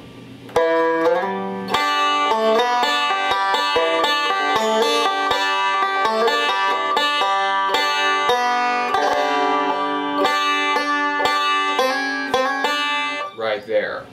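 Bluegrass banjo playing a tune with rolls, pinches and hammer-ons, a fast, continuous stream of bright plucked notes, close and steady for about twelve seconds.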